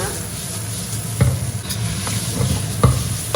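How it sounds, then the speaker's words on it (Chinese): Yellow-heart cabbage is stir-fried in a wok, a steady close sizzle broken by a few louder scraping tosses of the spatula, with no one speaking. "随便翻炒翻炒，就像这样就可以了"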